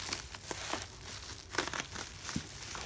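Clear tape being pulled and peeled off clear bubble wrap around a package holding a 190SL Solex carburetor, a close run of crinkling, crackling and tearing rustles that continues steadily with no talking.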